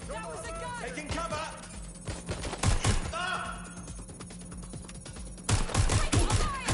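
Gunfire in the video game Watch Dogs Legion: bursts of shots cluster throughout, loudest near the middle and toward the end, with voices and game ambience running underneath.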